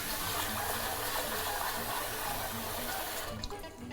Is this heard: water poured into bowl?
yes